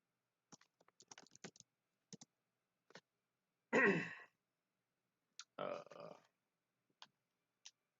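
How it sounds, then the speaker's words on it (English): Computer keyboard typed on during a God Eater 3 game stream: sparse, quiet key clicks in short bursts, broken by a couple of louder breathy sighs or vocal noises. "I gotta use my keyboard for this."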